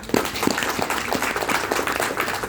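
An audience at an Amway business presentation breaks into loud, dense applause that stays strong and steady from start to finish.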